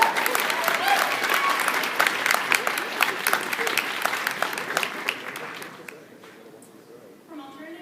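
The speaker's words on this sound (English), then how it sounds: "Please give a round of applause for Kathy" An audience at a comedy event breaks into sustained applause, dense and loud at first, then thinning and fading toward the end as a voice begins speaking.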